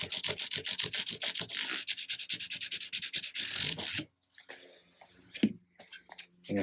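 Fine 600-grit foam sanding pad wrapped around a finger, rubbed along a wooden guitar neck: a close, rapid series of rhythmic scratchy strokes for about four seconds, then quieter scattered rubbing and handling noises.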